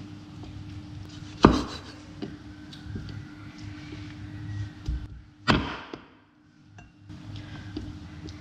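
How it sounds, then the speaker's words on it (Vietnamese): Two sharp, heavy cleaver chops through pork ribs on a board, spaced a few seconds apart, with quieter taps and light kitchen clatter between them. "Xong rồi mình chặt nhỏ."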